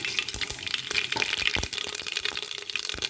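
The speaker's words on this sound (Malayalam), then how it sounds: "അത് ഓയിൽ ചൂടായി ഇനി നമുക്കതിലേക്ക് കടുക് ഇട്ട് കൊടുക്കാം" Mustard seeds crackle and pop in hot oil in a pan, a dense run of sharp spluttering bursts close by.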